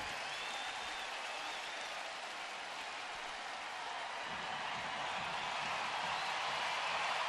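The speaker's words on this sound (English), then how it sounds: "One of the only times tonight this crowd's been able to make some noise." A baseball stadium crowd at a Baltimore at Cleveland game cheers and applauds in a sustained wash of clapping that swells slightly toward the end, with no talk over it.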